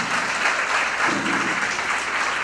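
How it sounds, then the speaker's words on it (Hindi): A festival award-show audience applauds the cast of a play with dense, steady clapping that fills the whole short stretch, no voices rising above it. "एक बार पूरी प्ले कास्ट के लिए जोरदार तालियां बजती जाएं।"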